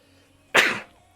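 A single short, sharp sneeze during a gaming session, close to the microphone and fairly loud, bursting out suddenly and tailing off within a fraction of a second against quiet surroundings.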